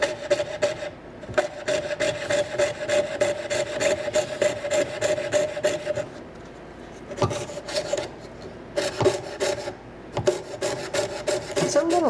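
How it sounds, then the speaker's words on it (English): Jeweler saw cutting through plastic for a hollow-form ring, a fast rhythmic rasping of back-and-forth strokes in long runs with brief pauses, close and moderately quiet. "It's a little harder sawing on plastic, but it works well and you get these beautiful cuts with your jeweler saw"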